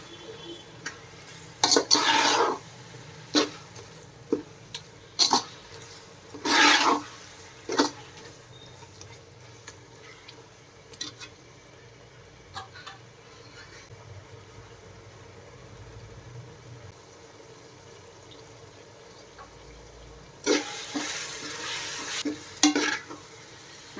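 Vegetables being sautéed and stirred in a pan for brinji vegetable rice, with a low steady sizzle under repeated louder scraping and stirring bursts, no talking.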